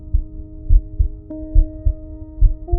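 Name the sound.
heartbeat sound effect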